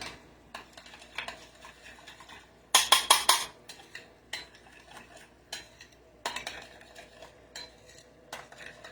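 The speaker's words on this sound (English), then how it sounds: "I'm just going to mix this up, and we're going to top our baguette over here with this mayo" A mayo mixture stirred in a bowl for topping a baguette, with repeated close utensil clinks and scrapes in uneven bursts, one louder clattering flurry partway through.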